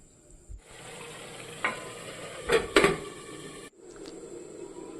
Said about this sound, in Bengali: এখন আমি মশলার সাথে মাংসটা পুরো ভালো করে মিশিয়ে নিচ্ছি।